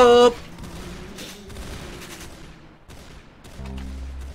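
A shotgun blast opens loud and sharp in the Roblox game Arsenal, followed by quieter scattered game sounds and a few low thuds, with a voice talking over part of it.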